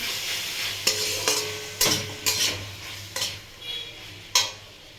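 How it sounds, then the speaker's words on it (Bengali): Baby corn with tomato and green chilli sauce is stirred in a hot pan, a low sizzle broken by a series of sharp spoon knocks and scrapes against the pan. "এক চামচ টমেটো সস দিয়ে দিলাম এবার এটাকে একটু নাড়াচাড়া করে নিচ্ছি"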